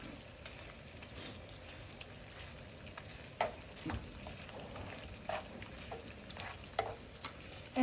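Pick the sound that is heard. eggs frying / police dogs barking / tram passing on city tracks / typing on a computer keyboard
eggs frying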